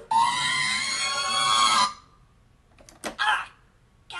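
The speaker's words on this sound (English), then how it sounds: "this method of making the screaming Roomba over Michael Reeves' setup" A modified Roomba vacuum robot, driven by an Arduino, lets out a loud sustained human-like scream for about two seconds when its bumper is hit, followed by quiet and a few short bumps and clatters.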